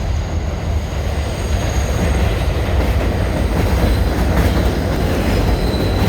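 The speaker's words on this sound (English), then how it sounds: "I think the train is coming." A train rolling in close by: a loud, continuous rumble with squealing wheels and faint clacking.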